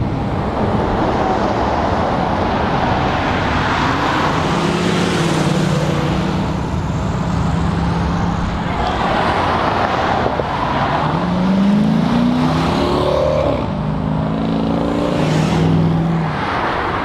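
A Plymouth Barracuda's engine roars and revs, a loud, close, continuous rumble rising and falling, with deeper rev sweeps near the end and no talking.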